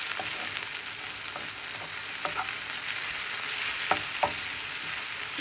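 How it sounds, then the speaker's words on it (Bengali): Mixed vegetables with pumpkin greens frying in oil with onion and garlic, a steady close sizzle throughout with a few sharp scraping stir clicks scattered across it. "তারপর তেল এবং পেঁয়াজ রসুন দিয়ে সবগুলি সবজিকে একটু বাগার দিতে হবে"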